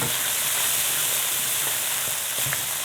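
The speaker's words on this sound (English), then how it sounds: "Now you keep frying this masala for at least 5 to 6 minutes." Masala spices frying in a karai for dum aloo on a medium gas flame, a steady close sizzle and hiss that holds at an even level throughout with faint stirring scrapes.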